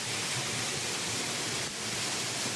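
Loud, constant roar of a waterfall in Kyrgyzstan heard from close range, a dense unbroken wash of falling water with no voices.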